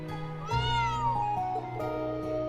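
A cat in the video game Trails of Cold Steel IV lets out one clear, drawn-out meow with a rising and falling pitch, then shorter trailing mewing sounds, close and alone.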